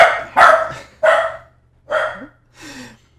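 A pet dog at home barks as the garage door opens, loosing a string of five or six sharp, loud barks close by with short pauses between them and no talk over them.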